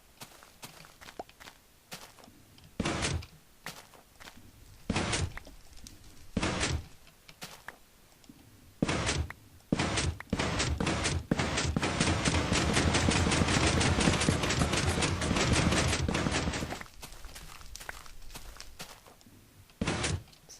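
Piston machine in a block-building video game clunking repeatedly, a series of sharp mechanical knocks that speed up into a dense, continuous clattering burst before trailing off into a few scattered clunks.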